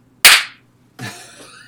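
A single sharp hand clap, loud and close, struck to mark a sync point during a countdown to a launch, followed by a brief voice.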